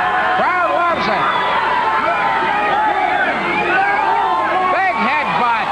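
A wrestling arena crowd at a 1985 Stampede Wrestling TV bout roars and cheers steadily for the full length, dense and continuous, with an excited commentator talking over the noise.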